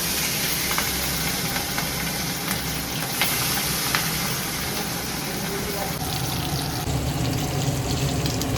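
Eggplant slices fry in hot oil with a steady crackling sizzle, continuous and close, while a person talks over the cooking.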